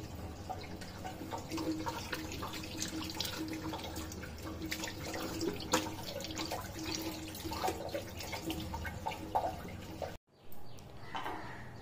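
Running water streams steadily from a tap while hair dye is rinsed out of hair, a continuous close splashing wash that stops abruptly near the end and is followed by faint handling sounds, with no talking.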